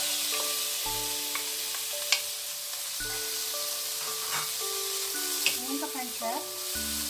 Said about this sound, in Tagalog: what we're going to do next is ipiprito natin yung ating bacon.